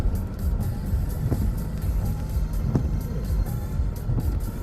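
Car engine pulling hard in second gear during an Uber run, a steady low rumble heard from inside the cabin with small bumps and knocks over the drone.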